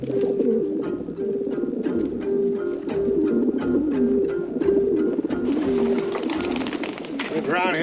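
Pigeons coo steadily in soft repeated phrases, close and clear, with a rising chorus of higher bird calls toward the end.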